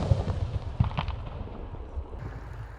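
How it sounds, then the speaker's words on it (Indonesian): A Whistling Thunder jumbo firework set off in a rice field at dusk, a few sharp bangs in quick succession followed by fading crackle and rumble outdoors. "Kita nyalakan. Sudah menyala. Whistling Thunder jumbo."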